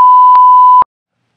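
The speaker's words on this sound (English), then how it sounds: "every time I say, it comes out, beep" Censorship bleep sound effect, a loud steady electronic tone held for under a second, alone with no voice.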